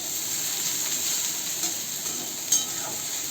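Okra sautés uncovered in a pan with salt, a steady hiss of frying oil with faint stirring and a small clink near the end, close and even.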